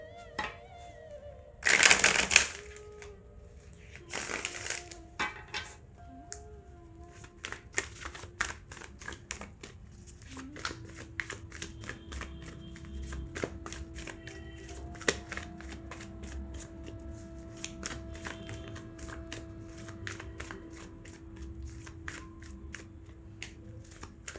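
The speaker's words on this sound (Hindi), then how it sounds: "ये रही आपकी कार्ड शफलिंग।" Tarot cards being shuffled by hand at close range, with two loud riffle bursts early on, then a long run of soft rapid flicks and taps as the deck is handled, with a faint voice in the background.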